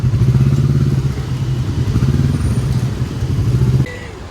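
A motorcycle engine idles and rumbles steadily nearby, a low chugging drone that cuts off abruptly near the end.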